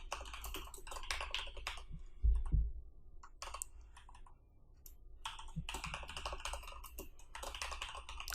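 A computer keyboard clatters as a code comment is typed in a PHP lesson, bursts of quick key clicks broken by a short pause near the middle, close and fairly quiet.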